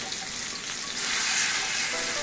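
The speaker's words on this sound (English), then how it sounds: "we've got our chicken frying" Steady sizzling and crackling of chicken frying in a hot pan, a constant close-up hiss with no voices.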